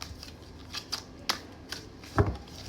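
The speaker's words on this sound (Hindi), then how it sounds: "मैं पहले ही 4 cards पुल कर लेती हूँ।" Four cards pulled from a deck one after another: a few soft, sharp card snaps and slides, close and quiet, ending in a brief heavier slap as the cards land.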